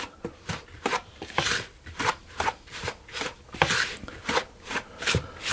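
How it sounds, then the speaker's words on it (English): Dough whisk working through crumbly apple crumb cake mixture, a series of rhythmic scraping, crunching strokes about twice a second, close and clear with no talk. "I'll start off with this dough whisk, which does a very good job of breaking things up"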